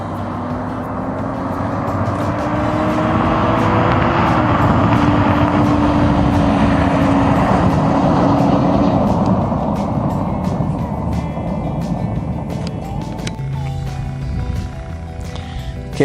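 A car engine drones loudly and steadily across open white salt flats, its pitch rising and falling as the car passes at high speed before fading.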